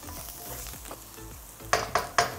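Vegetables stir-fry over high heat in a steady sizzle, with repeated scraping strokes of a spatula and then three sharper, louder tosses or clatters near the end.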